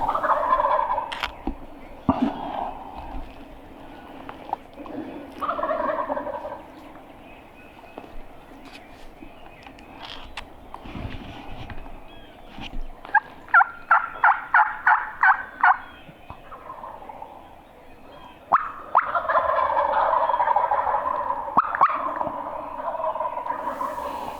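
Wild turkeys gobbling from several directions in woodland, repeated loud gobbles near and farther off, with a rapid series of calls midway and occasional rustling footsteps.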